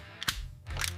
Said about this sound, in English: just a solid click-clack.